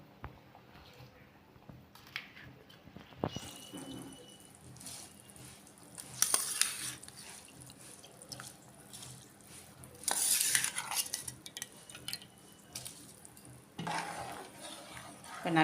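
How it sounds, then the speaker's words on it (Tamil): Soaked rice tipped into a pot of boiling water for green gram rice, with soft watery splashes, stirring, and occasional clinks of a utensil against the pot. "இப்போ அந்த ஊற வச்ச அரிசியை போட்டுக்கலாம்."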